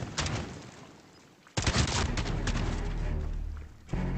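Gunfire in a Call of Duty 2v2 match: a sharp shot, then a dense sustained burst of rapid fire, and another shot near the end, loud and close.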